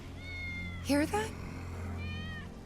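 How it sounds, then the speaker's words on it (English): Wedge's cat meowing in Final Fantasy VII, two short clear meows in close succession over a quiet game ambience with a faint steady tone. "That's Wedge's cat."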